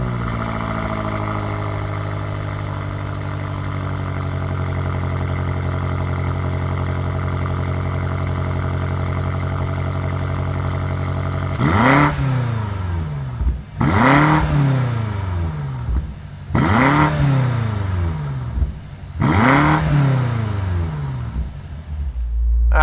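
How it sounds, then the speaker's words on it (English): A 2020 BMW M8 Competition sports car fires up with a loud, close engine start, then settles before four sharp rev blips rise and fall in a rhythmic series. "let's fire up this M8 Competition and see what it sounds like"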